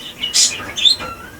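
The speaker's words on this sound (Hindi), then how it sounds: "मेरे वीडियोस में चिड़िया लोग की आवाज़ काफ़ी ज़्यादा आती है," Birds chirp near a house in two or three short, bright tweets within about a second. The calls are close and clear over quiet background noise.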